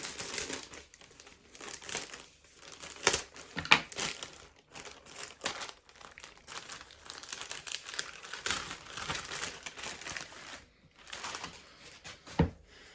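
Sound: opening a plastic package

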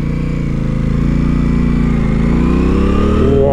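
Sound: Aprilia RS 660 motorcycle engine with clutch pulled

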